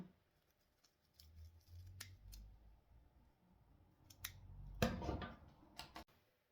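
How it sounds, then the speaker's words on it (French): Scissors snipping off excess dried flower stems for a hair comb, a few sharp close snips and clicks over faint rustling handling noise, no speech. "Et vous allez couper donc l'excédent des tiges"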